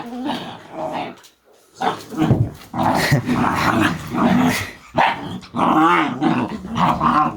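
Kangal dogs growl and bark repeatedly at close range, with deep rumbling growls between louder barks and a brief pause near the start.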